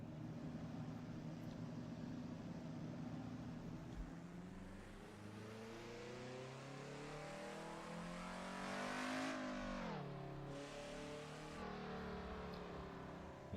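A race car engine in Assetto Corsa at Knockhill drones steadily and loud, climbing in pitch through the gears and peaking around a shift before settling into a constant high rev, with no talking over it.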